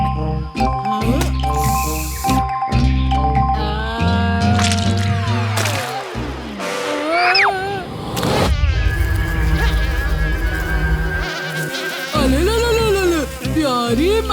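A cartoon bee buzzes amid busy music and sound effects, with a sustained whining drone that holds across the middle of the scene.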